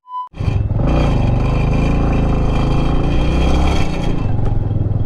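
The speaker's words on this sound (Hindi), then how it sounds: "ये रही अपनी एवेंजर जिसको हम कल पूरा दिन लेके घूमे थे और अभी इसी को लेके हम जाने वाले हैं" A Bajaj Avenger motorcycle engine runs loud and steady close by on a hill road near Nainital, a constant throaty rumble after a brief tone at the start.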